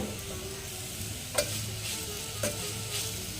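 Leftover roti pieces tossed and stirred in a pan over a full flame, a steady close sizzle broken by two clear clanks of the spatula against the pan.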